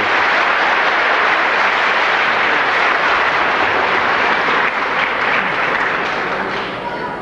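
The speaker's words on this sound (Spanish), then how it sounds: "Vamos a recibir con un fuerte y caluroso aplauso al señor Neftalí Díaz" Loud, sustained audience applause fills a hall as a speaker is welcomed to a religious gathering, a dense continuous clapping that eases slightly toward the end.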